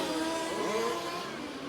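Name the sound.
race cars racing on track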